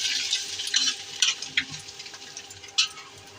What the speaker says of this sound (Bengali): এখন আরেক পাশ ভাজবো।